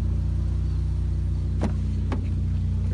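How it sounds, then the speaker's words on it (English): A turbocharged 2013 Ford Focus ST hatchback with an upgraded exhaust idles with a steady low rumble, broken by two brief sharper mechanical clicks or blips partway through; no talking. "peppy little turbocharged engine. Hatchback. It's got an upgraded exhaust system. Sounds really good."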